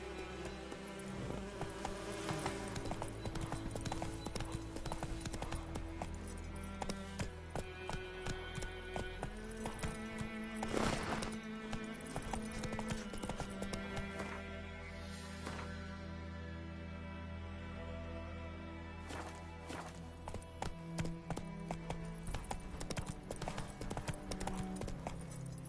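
Steady clip-clop of horse hooves from a mount ridden in The Witcher 3 on PS5, moving at a brisk, rhythmic pace with a faint insect-like buzz and ambient game sounds behind it.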